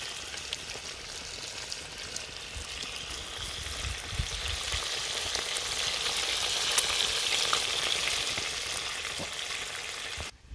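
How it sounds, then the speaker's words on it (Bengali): Pieces of rohu fish fry in a pan over a wood-fired stove, giving a steady, close sizzle that swells slightly louder midway and holds for about ten seconds with no talking. "এখন আমি প্যানের মধ্যে রুই মাছের পিসগুলো দিয়ে দিয়েছি"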